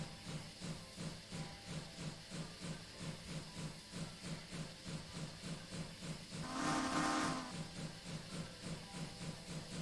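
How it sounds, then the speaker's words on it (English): A Hunslet saddle tank steam locomotive works hard on a heritage railway, its exhaust beating in a steady fast rhythm close by, with a burst of hissing steam partway through and no voices. "I'm gonna be working this loco pretty hard."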